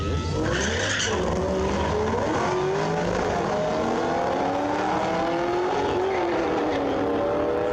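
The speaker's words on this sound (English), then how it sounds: "Just wheel spinning." A car spins its wheels, with a continuous loud engine roar and rising, sweeping tire squeal that holds steady for several seconds.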